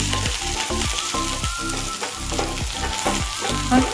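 Sliced onions fry in hot oil in a pan, a loud, close, continuous sizzle broken by repeated rhythmic stirring scrapes, with no voices.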